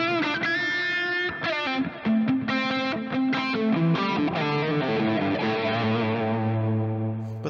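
Heavily distorted electric guitar plays a sustained, saturated riff with thick ringing notes, loud and continuous.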